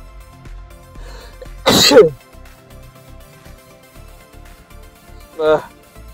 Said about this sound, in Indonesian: Bentar, gue bersin dulu.